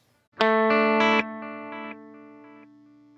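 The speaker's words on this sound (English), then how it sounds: "So this is your standard kind of delay." A sustained synth-like guitar chord through a Strymon Timeline delay pedal rings out and then repeats in a few softer, evenly spaced echoes that gradually fade away.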